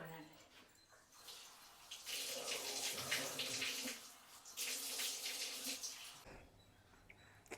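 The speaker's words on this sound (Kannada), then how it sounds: "ಇವಾಗ ನೀಟಾಗಿ ಫೇಸ್ ವಾಶ್ ಮಾಡ್ಕೊಂಬರ್ತೀನಿ ನೋಡಿ." Tap water running into a sink while someone washes their face, a soft splashing flow that swells and pauses, with faint background noise and no speech.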